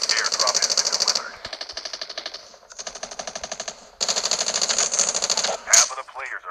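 Rapid automatic gunfire in a battle royale video game, several long bursts of dense, fast shots separated by brief gaps, loud and close, ending with a sharper crack and a whooshing effect.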